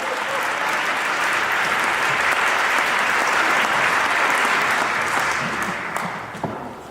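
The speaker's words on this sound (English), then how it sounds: "So let's give him a round of applause." Sustained applause from a large lecture audience at the PBHA Robert Coles Call of Service Lecture, a dense, steady wash of many hands that holds evenly for several seconds, then thins and fades toward the end.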